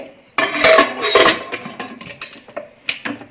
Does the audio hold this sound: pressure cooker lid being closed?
yes